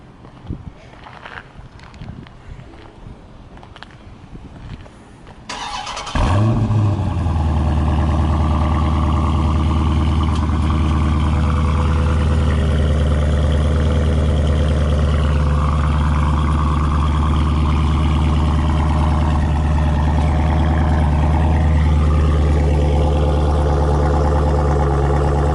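A 2015 Dodge Challenger R/T Scat Pack cranks and fires up after a few seconds of quiet outdoor noise, then settles into a deep, loud, steady exhaust idle heard from behind the car.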